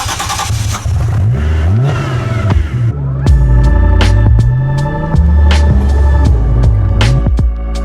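A Contera MD1 supercar revs hard while being driven, its engine climbing and dropping through repeated loud sweeping pitch rises with sharp gear changes and pops, close and dominant throughout.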